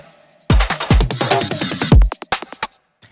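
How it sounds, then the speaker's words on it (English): A dense, glitchy drum and bass loop with deep kicks, stuttering clicky percussion fills and choppy hits, ending in a burst of quick fragmented percussion. "We have a couple little extra clicky percussion fills and a couple little glitchy loops and this drum and bass loop."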